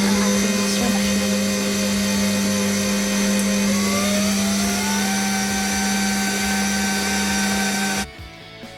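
A mixer machine kneading bread dough with yeast for Filipino twisted donuts gives a steady, loud motor drone with a constant hum, running evenly for about eight seconds before cutting off abruptly.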